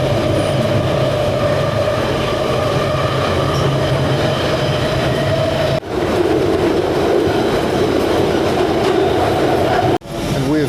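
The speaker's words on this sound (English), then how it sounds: "There goes the tube train" A London Underground tube train rushes past close by, a loud, steady rail roar with wheel rumble that swells and cuts off abruptly, with faint talk beneath.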